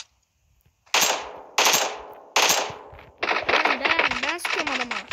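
Gunfire in the mobile battle game PUBG Mobile: three sharp separate shots, then a rapid automatic burst close and loud, with a voice talking over it.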